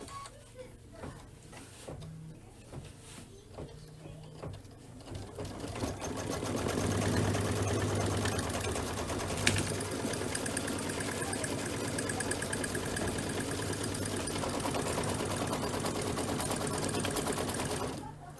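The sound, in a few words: embroidery sewing machine stitching basting stitches to the hoop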